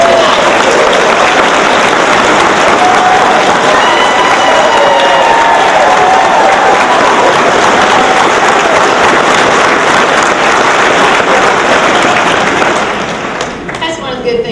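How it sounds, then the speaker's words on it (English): An audience at a U.S. Republican Senate candidates debate applauds for Herman Cain, a loud, dense, sustained clapping from a large crowd that fades slightly near the end, with a few voices faintly mixed in. "I think we ought to give him a round of applause"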